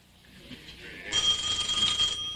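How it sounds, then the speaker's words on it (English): A telephone ringing in a 1985 TV drama, a faint tone followed by a steady, brighter electronic ring that sounds alone for about a second. "Somebody answer that phone?"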